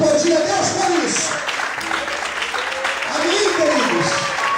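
A church congregation applauding during a Portuguese-language sermon, with clapping blended under sustained vocal sounds, swelling and receding twice over a few seconds.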